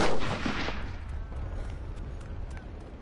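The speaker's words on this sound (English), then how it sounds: "somebody's shooting at me." Gunfire in a battle royale video game: a burst of shots from nearby, then scattered fainter reports echoing in the distance.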